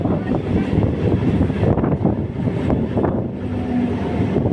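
A passenger train on the Old Delhi to Shamli line pulls into the Fakharpur railway station halt with a heavy, close rumble and rattle of carriages that runs continuously from start to finish.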